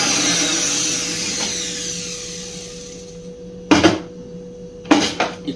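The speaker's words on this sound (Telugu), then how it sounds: "ఇప్పుడు మిక్సీ తీసుకోవాలి." A kitchen mixer grinder's motor whirs loudly and then winds down, followed by two short, sharp bursts as it is switched on again briefly.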